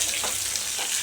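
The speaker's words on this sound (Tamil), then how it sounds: "சேர்த்திட்டு வெங்காயம் நல்லா வதக்க வேணும்" Onions sautéing in a pan for a carrot chutney, giving a steady soft sizzle with two brief swells as they are stirred, close and alone with no voices.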